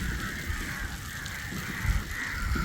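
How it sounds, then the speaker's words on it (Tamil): Crows caw repeatedly from a gathering of many birds in an open outdoor spot at evening, the harsh calls overlapping steadily at middle distance over low background rumble. "ஒரே இடத்துல எவ்வளோ காக்கா வந்து இருக்குதுன்னு பாருங்க."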